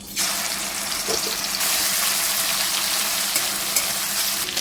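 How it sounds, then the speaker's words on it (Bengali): Steady, loud sizzling of prawns frying in hot mustard oil, a continuous crackling hiss close by with a few brief clinks. "তেল গরম হয়ে গেছে চিংড়ি মাছটা ভেজে নিচ্ছে"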